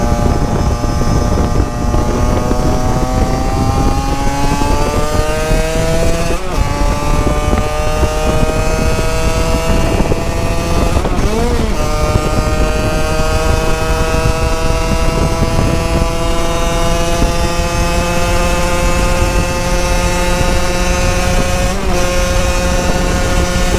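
A 70cc moped engine (73.5cc kit) held at high revs, a loud continuous buzzing drone with rising and falling pitch and brief dips as the throttle changes, no talking.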